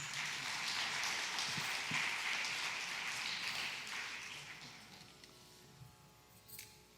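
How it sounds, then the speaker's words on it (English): Audience applause fills a hall at a Bharatanatyam arangetram, a dense wash of clapping that holds steady for several seconds, then tapers into scattered claps and fades out. "Can we have one more round of applause"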